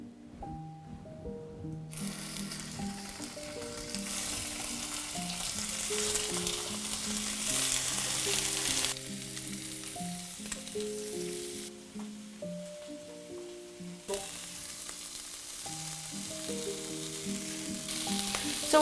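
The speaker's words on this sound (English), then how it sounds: "They have to be grilled on a hot pan, otherwise they are overcooked." Scallop skewers sear in a hot pan with a continuous crackling sizzle, heard alongside a steady tonal background sound throughout.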